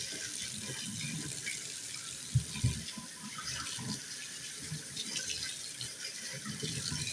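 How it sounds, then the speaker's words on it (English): Tap water runs steadily into a sink while potatoes are scrubbed under it with a small scrubber, a constant broadband rush with a couple of brief low knocks midway. "I'm just scrubbing the potatoes. Getting the dirt and stuff off of them."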